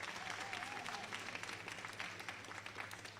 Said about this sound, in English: Big round of applause for Beauty and the Beast.